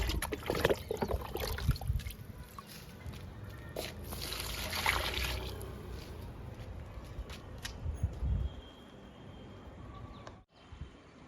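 Liquid fertilizer pours and trickles onto garden plants, including drumstick saplings, in soft uneven splashes and dribbles. A steady outdoor background runs underneath, and one brief sharp break comes near the end.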